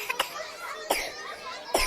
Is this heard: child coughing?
yes